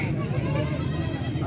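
Goat bleating at a Faisalabad livestock market selling Beetal and Nagra goats: a close, loud, wavering bleat held through the moment.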